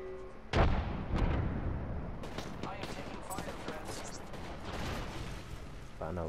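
A frag grenade goes off in a first-person shooter game with a sudden deep boom, followed by a dense rumble of gunfire and blasts, while voices talk over the action.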